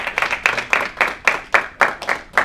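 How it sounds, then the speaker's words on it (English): A small audience applauds a speaker at a financial literacy workshop; the clapping comes in sparse, evenly spaced claps, nearby and distinct, with no talking. "ladies and gentlemen, give a round of applause to Jose Gonzalez."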